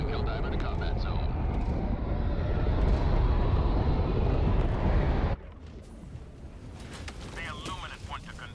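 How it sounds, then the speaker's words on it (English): In Helldivers 2, an allied destroyer deploys a Helldiver to the combat zone: a loud, roaring rush of engine and wind that cuts off abruptly, giving way to quieter rumbling and faint electronic tones. "Allied destroyer joining squadron, deploying Helldiver to combat zone."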